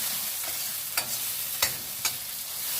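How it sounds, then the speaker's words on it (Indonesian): Spice paste for taro leaf buntil being stir-fried in a pan: a faint steady sizzle broken by a few sharp scrapes of the spatula against the pan. "Nah, ini saya tumis seperti ini"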